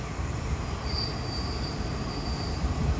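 The Thaksin special express, train 37/45 from Krung Thep Aphiwat to Sungai Kolok, passes Ban Pong station. It makes a steady, loud rolling rumble of wheels and cars, with a thin high squeal drifting through the middle.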